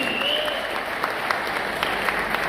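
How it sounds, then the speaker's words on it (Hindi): An audience at a Modicare product event applauds the launch of Cordyceps: steady, dense hand-clapping fills the room with no voices over it. "एक बार जोरदार तालियां हो सकती है कॉर्डिसेप्स के लिए।"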